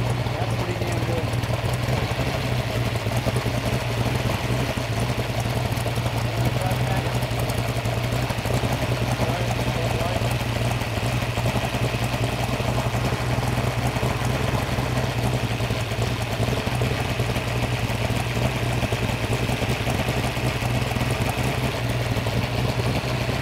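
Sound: engine running with manual starting flywheel

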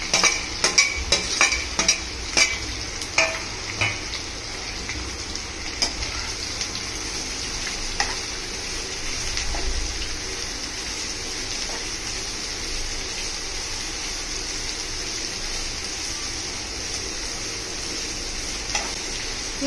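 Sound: frying chopped onions for chicken bhuna masala

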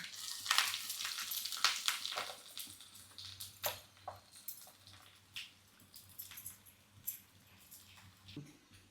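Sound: tempering frying for moong dal sambar

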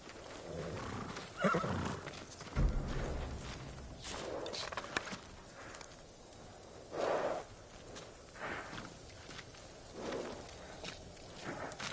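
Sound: horse neighing in the video game Ghost of Tsushima

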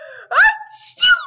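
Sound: imitated sneeze

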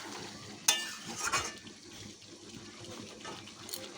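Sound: chicken kosha being stirred and fried with spiced water

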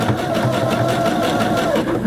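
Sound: sewing machine zigzag stitching off the end of a quilt

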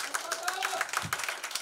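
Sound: audience applause for the two rap battlers

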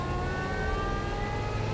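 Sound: supercharged car engine accelerating

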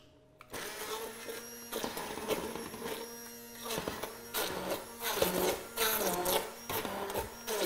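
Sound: blender pureeing cauliflower with mascarpone cheese

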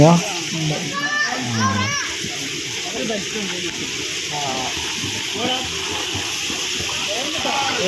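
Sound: small children swimming and splashing in a natural pool

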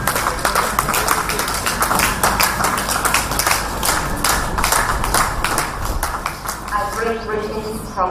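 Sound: clapping

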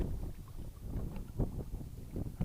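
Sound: strong wind

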